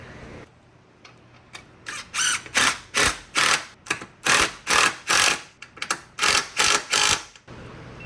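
A ratchet wrench tightening 10mm bolts on a Gen 2 Mustang, a rapid close clicking that repeats in about a dozen short, evenly spaced bursts with brief pauses between them.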